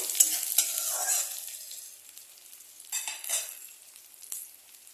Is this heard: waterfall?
no